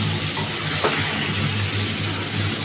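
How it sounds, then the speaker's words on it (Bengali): Ginger paste with ground cumin, chilli and turmeric sautés in a pan for aloo dum, a dense and even sizzling hiss held steady for a few seconds with one faint knock, no voices. "আদা বাটা জিরে গুঁড়ো লঙ্কা গুঁড়ো হলুদ গুঁড়ো দিয়ে ভালো করে কষিয়ে নেব"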